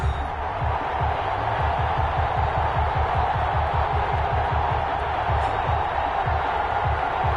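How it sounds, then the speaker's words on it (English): A stadium crowd in a football video game, Miami Dolphins against London Black Knights, keeps up a steady, dense roar throughout, with a low rhythmic pulse running beneath the cheering. "This crowd is ready"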